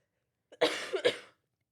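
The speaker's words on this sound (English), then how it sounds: "Rude of my cough." A single harsh cough, a short burst followed by a second rough hack, close and fairly loud, with silence around it.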